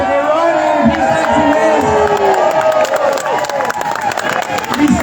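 A large protest crowd cheers and whoops, its dense roar holding steady the whole time, with scattered shouts and some clapping mixed in.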